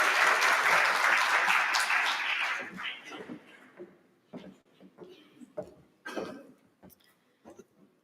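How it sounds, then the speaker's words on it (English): At a stakeholder roadshow event in Johannesburg, an audience claps for a speaker coming up to the podium. Dense applause fills the room for about two and a half seconds, then thins into scattered claps and small knocks. "May we please give her a round of applause as she comes up to the podium"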